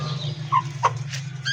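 A weak, ailing hen gives a few short clucks close by over a steady low hum.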